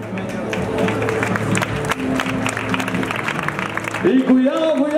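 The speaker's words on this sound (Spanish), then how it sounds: "¡Un fuerte aplauso para nuestras dios!" A crowd at a Spanish town festival parade of troops applauds the passing performers, with steady clapping and cheers running beneath a loud announcer's voice over a PA.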